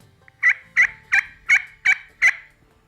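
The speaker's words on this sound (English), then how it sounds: "So, how to yelp on a slate call" Six evenly spaced, raspy turkey yelps made on a slate call, clear and close with short gaps between them.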